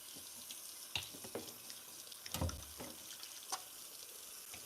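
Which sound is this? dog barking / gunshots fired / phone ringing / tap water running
tap water running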